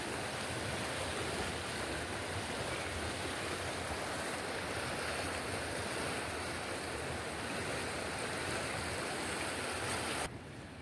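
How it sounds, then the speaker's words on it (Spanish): The Torola river flows in spate, a loud, continuous rushing roar of water heard close and alone, broken only by a brief drop at the very end. "Chulada de río Torola."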